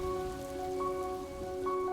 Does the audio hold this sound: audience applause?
no